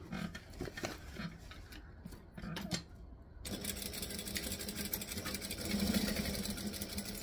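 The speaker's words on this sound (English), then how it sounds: "We're going to stitch, back stitch, pull it out, trim it off." A sewing machine stitches a travel bag with a steady mechanical whirr, preceded by a few short handling clicks and brief bursts of stitching before it runs continuously.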